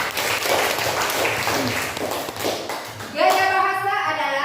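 A classroom of children applauds together for about three seconds, a dense run of hand claps with mixed voices, before a single adult voice speaks close by.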